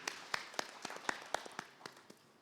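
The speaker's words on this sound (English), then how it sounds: "A round of applause, please." A conference audience at an agriculture dialogue gives a brief, sparse round of applause, a handful of distinct claps ringing out in an uneven rhythm before fading, heard alone without talk.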